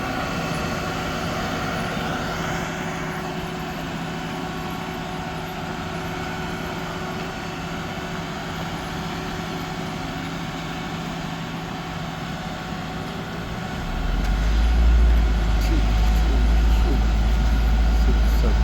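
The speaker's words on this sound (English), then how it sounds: "There are 7 trucks here right now." Heavy trucks at a street asphalt repaving site, a steady low diesel rumble with engines idling and moving nearby, growing louder and deeper near the end as one approaches close.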